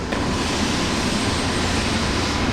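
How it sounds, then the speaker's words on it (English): A steady, loud rumbling roar of a train running close by, constant and broadband throughout with no voices. "Sorry for the train noise"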